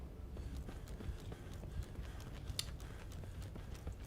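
In the WW1 survival horror game Conscript, a horse's hooves clip-clop faintly and irregularly over a low, rumbling ambient background, with a few sharper clicks standing out.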